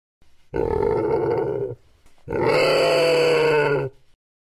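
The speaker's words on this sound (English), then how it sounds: "Pig" A pig grunts in two long, deep, rough, rumbling calls separated by a brief pause, loud and close with no talking.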